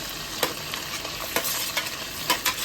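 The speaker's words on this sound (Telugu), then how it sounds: "పచ్చిమిరపకాయ, కరివేపాకు అన్నీ వేసి కలుపుకొని" Onion, green chilli and curry leaves fry in oil in a pan, with a gentle constant sizzle and repeated crisp scrapes of a stirring spoon, close and fairly quiet, with no voices.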